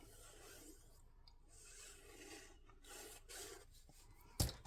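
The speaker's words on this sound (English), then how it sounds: "I am going to give this a better burnish because it's not looking very burnished to me" A tool rubs back and forth over a paper gusset on a handmade album as it is burnished, producing a soft, close rasping scrape with a sharper tap near the end.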